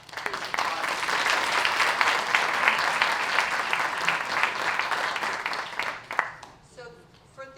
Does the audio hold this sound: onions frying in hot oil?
no